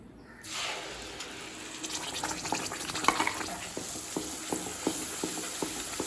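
Moong dal is stirred into roasted wheat flour in a pan for halwa, a soft steady sizzle with repeated light scraping strokes of the spoon in an even rhythm. The sound is close and moderately quiet, with no talk.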